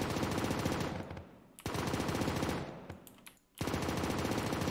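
Rapid automatic SMG fire in a zombie shooter game, loud dense bursts with two short pauses between volleys, no talking.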